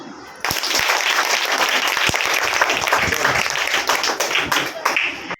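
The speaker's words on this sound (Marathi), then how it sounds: "टाळ्या" Steady applause from a crowd, dense clapping starting abruptly and continuing evenly before cutting off.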